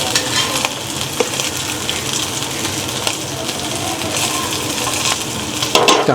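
Modak fry in a pan with a dense, loud, steady sizzle and crackle, and occasional light scrapes and taps as the pieces are turned.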